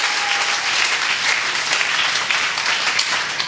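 A church congregation bursts into steady, loud applause, many hands clapping together throughout the few seconds, with no talking over it.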